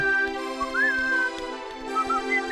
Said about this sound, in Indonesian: Dia sedang sibuk melumuri minyak ke businya dan sambil bersiul.